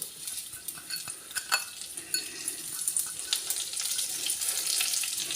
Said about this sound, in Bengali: জিরেটাকে একটু ভালো করে আগে ভেজে নেবো